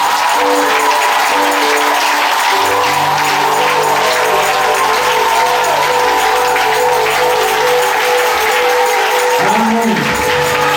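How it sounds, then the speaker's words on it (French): Church congregation applauding servants of God at an annual convention in Bouaflé, Côte d'Ivoire, a long sustained roar of clapping and cheering over sustained organ-like musical tones, loud and continuous throughout. "est-ce qu'on peut acclamer les serviteurs de Dieu?"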